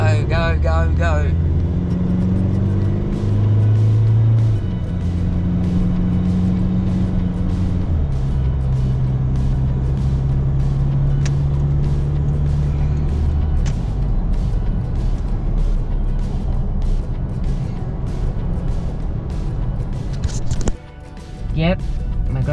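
Several cars pull away together in a convoy for the Keep the Sheep protest heading to Perth, a steady close engine and road rumble that holds throughout, with shifting engine tones and a brief dip near the end.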